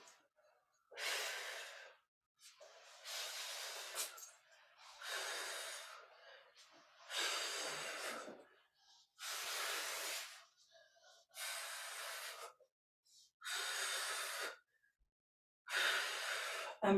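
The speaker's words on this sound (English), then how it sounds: "I'm breathing, exhaling as I'm coming up." Heavy, audible breaths come and go in slow regular cycles during a seated chair stretch, each long exhale separated by a quiet pause, close and breathy.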